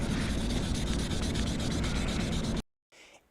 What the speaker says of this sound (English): when sanding, you want to put enough pressure on the area so that you can hear it cutting.